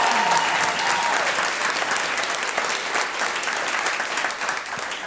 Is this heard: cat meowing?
no